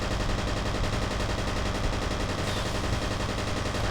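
Dense, continuous gunfire from a gunfight in the video game F.E.A.R., rapid automatic bursts blending into a loud unbroken roar with no pauses or talk.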